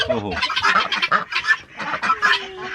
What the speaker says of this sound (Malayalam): ഇതിനകത്ത് താറാവ്, ഇതിനകത്ത് തുറന്നിട്ടെ. ഇതൊന്ന് ഗിനി, ഇത് ടർക്കി ഉണ്ട്